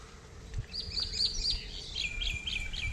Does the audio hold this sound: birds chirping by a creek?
yes